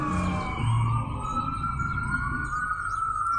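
An emergency siren wails steadily over street noise on 34th Street, loud and fairly close, its pitch sliding slowly, with no voices.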